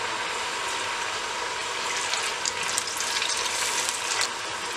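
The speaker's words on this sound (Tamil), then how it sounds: "பொரியட்டும் சிக்கன்" Marinated chicken deep fries in hot oil over a medium-high flame, a dense, steady bubbling hiss that stays loud and close throughout with faint crackles rising toward the end.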